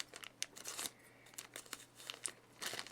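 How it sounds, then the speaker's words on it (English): A plastic yarn package is crinkled and torn open by hand: faint, close rustling and ripping in short bursts over quiet room tone. "I really hate tearing."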